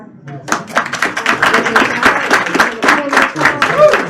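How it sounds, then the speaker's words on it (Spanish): An audience at a podcast authors' talk at an Ibero-American university breaks into loud, close applause, with dense rhythmic clapping that builds quickly and holds steady throughout. "Inger, un aplauso."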